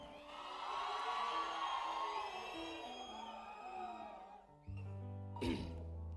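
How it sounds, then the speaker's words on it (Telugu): Stage event crowd cheering and whooping, a steady wash of many voices that swells early and then fades, with a sudden louder burst and shout near the end. "వీలైతే గట్టిగా ఓయేసుకోండి అన్న"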